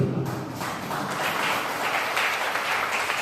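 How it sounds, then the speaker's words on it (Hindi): Audience applause at a farewell function in a hall: a dense, steady wash of clapping from a crowd, sustained and fairly loud throughout with no clear gaps. "अभी तो रूपरेखा पूरी बनी नहीं है और तालियां बजने लगी।"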